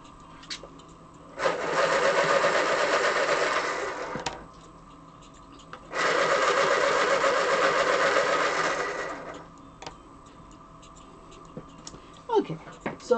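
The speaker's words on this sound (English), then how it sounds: "I'm going to sharpen these real quick." Pencils being sharpened in an electric sharpener, two loud whirring grinds of about three seconds each separated by a pause, close up, with small clicks and handling noises afterward.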